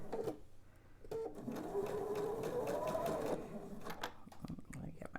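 A sewing machine stitches half-hexagon quilt pieces for a table topper, a single steady whirring run of a couple of seconds that rises slightly in pitch, with soft handling noises before and after.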